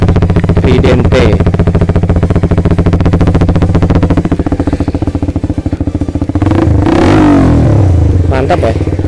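A Suzuki Satria F150 motorcycle fitted with a Tridente V2 three-mode aftermarket exhaust revs loudly in racing mode, sustained throaty engine tone with repeated rises and falls of revs, close up and filling the whole clip.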